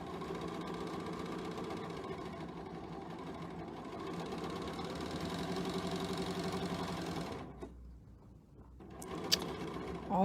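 A sewing machine stitches fabric in a sewing class, running at a steady, close mechanical hum for about seven seconds before stopping abruptly, followed by a few small handling clicks.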